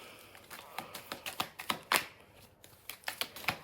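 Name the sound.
shuffling tarot cards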